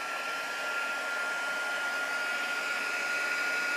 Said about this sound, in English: heat gun now. It's going to get a little bit loud